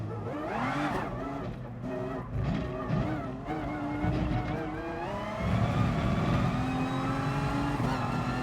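Race cars in GT Sport roar and rev through gear changes, with engine pitch sweeping up and down and occasional tire squeal, loud and continuous.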